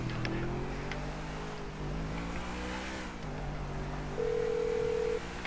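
A phone rings over a car's speakerphone in Grand Theft Auto V, a steady tone sounding briefly over the continuous drone of a driving car engine.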